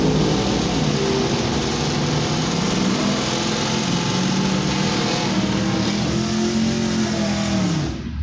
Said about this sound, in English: Good sound of the S10 there